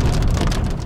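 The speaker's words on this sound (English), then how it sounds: "Here comes some rain." Rain falling steadily outdoors in snake country hills, a loud, dense hiss of drops heard close and alone.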